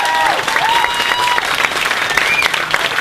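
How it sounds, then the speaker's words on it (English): An audience at a young Republicans lobster bake gives a warm round of applause for a state senator, steady and fairly loud clapping filling the whole stretch. "Please give him a warm round of applause"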